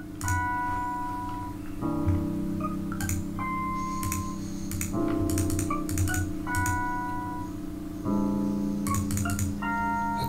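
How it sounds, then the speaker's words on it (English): Sharp repeated clicks and ticks sound in the Phantasmagoria computer game over a layered, looping musical drone, arriving in irregular clusters and fairly close, with no voices. "There was the clicking sound again."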